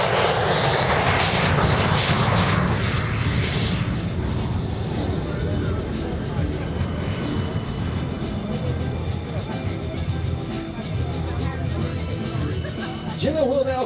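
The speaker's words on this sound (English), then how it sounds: "And now on the takeoff roll, here comes the L-39C Albatross." L-39C Albatross jet trainer rolling down the runway for takeoff at an air show, a loud continuous engine roar and rumble filling the whole stretch, with a faint rising whine near the end.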